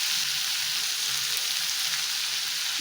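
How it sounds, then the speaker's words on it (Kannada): Green chilies and cashews fry in a pan with a bright, steady hissing sizzle, close and continuous for a few seconds with no voices. "ಸ್ವಲ್ಪ ಇದೆಲ್ಲ ಫ್ರೈ ಮಾಡ್ಕೊಳ್ಳೋಣ ಚೆನ್ನಾಗಿ."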